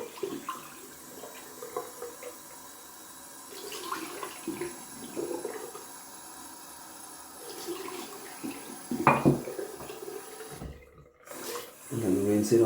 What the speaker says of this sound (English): rinse out my bowl